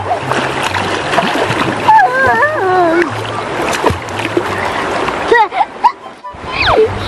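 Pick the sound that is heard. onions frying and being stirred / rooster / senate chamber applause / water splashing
water splashing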